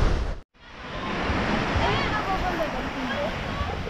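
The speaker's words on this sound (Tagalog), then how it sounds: "Dito po tayo sa tabi ng dagat." Sea waves by the shore at Dingalan, Aurora, a loud, continuous wash of surf with wind rushing across the microphone after a brief dropout at the start.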